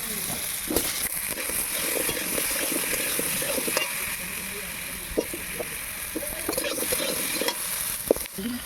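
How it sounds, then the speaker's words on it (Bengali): Potatoes fry in a pan for egg curry, a continuous close sizzle with frequent scraping stirs and light spatula knocks throughout. "এবার আমি আলুগুলোকে একটু ভেজে নেব।"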